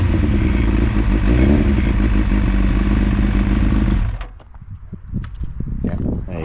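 A Kawasaki ZX9R inline-four motorcycle engine runs loudly and steadily up close for about four seconds, then cuts off abruptly, leaving quieter clatter and scraping sounds.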